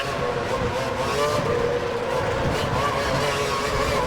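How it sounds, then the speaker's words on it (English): A Formula One car engine in the video game F1 2012 roars steadily at high revs, loud and continuous, with a sustained whine throughout. "I'll lower the vehicle sounds"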